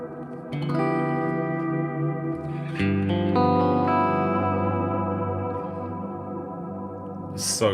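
Electric guitar through an amp modeler drenched in lush reverb: a few strummed chords ring out with long, shimmering sustain that blooms and slowly decays, with a short scratchy hit at the end.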